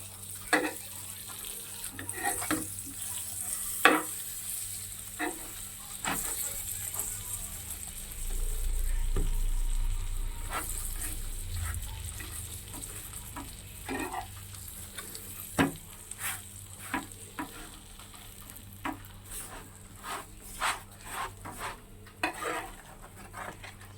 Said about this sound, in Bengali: বাটার দিয়ে এটা ভাজবো, বাটার নান বানাচ্ছি।